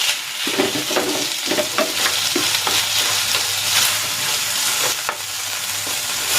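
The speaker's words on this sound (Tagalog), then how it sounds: "ilalagay ko na dito itong ground pork, Argentina giniling" Ground pork sizzles and fries in a hot pan, with steady crackling and repeated stirring scrapes throughout, close and fairly loud, with no voices.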